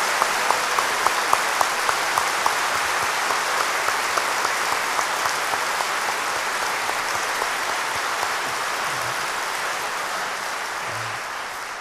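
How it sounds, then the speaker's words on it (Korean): A church congregation at an Easter praise service claps for the choir, a loud, sustained wash of applause that holds steady and tapers slightly toward the end, with no voices on top. "우리는 한 번만 더 우리 찬양대원들과 또 하나님께 영광을 드리는 박수를 드리겠습니다"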